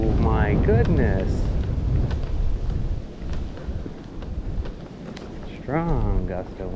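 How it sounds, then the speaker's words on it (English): A strong gust of wind on a forest hiking trail in Frontenac buffets the microphone with a loud, sustained rumble, with someone talking briefly before and after it. "Strong gust of wind."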